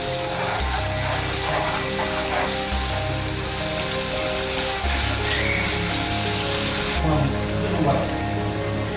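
Tomato puree sizzling and frying in a covered pan over browned ginger-garlic paste, a steady hissing crackle throughout, with someone speaking over it and faint background music.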